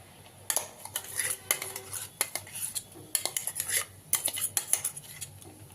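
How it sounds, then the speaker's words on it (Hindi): A utensil scrapes and clinks against a cooking pan in irregular clusters while tomato puree is stirred and fried with spices for a potato and brinjal curry, heard close up with no talking. "यहाँ पे हमने टमाटर का प्यूरी डालकर मसाले के साथ अच्छे से चलाते हुए भून लेंगे"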